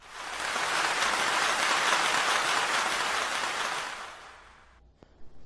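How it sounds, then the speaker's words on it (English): A group applauds a student after a school interview project about Roald Dahl, a dense hiss of clapping that swells quickly, holds for a few seconds, then fades away, ending with a single sharp knock. "Hey everybody, give him a round of applause."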